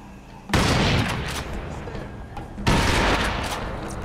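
Two heavy sniper rifle shots ring out in the Crysis video game, each a sharp loud crack with a long rolling echo tail, spaced about two seconds apart; no one talks.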